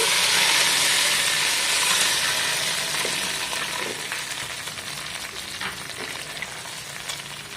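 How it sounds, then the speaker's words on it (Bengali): Bay leaves sizzle in hot ghee and white oil for Hyderabadi haleem, a steady loud frying hiss that eases slightly as it goes on, with a few faint utensil clicks. "তেজপাতা দিয়ে দিচ্ছি যে ঘি গরম করা আছে ঘি আর সাদা তেলটা দিয়ে দিচ্ছি"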